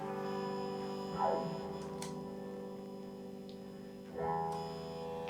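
Guitar notes through a Keeley ZOMA reverb pedal as its rate control is moved, sustained tones with shimmering modulated trails and two swooping pitch bends, fairly quiet and without any voice.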